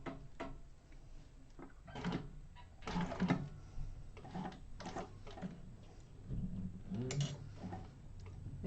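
A sewing machine stitching around a bowl-cover fabric piece in a quilting class, quiet bursts of rapid ticking needle strokes separated by short pauses, faint and close.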